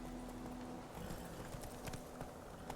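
Geralt's horse trotting in The Witcher 3, a steady clip-clop of hooves repeating at a close, moderate level over a constant game ambience, with no talking.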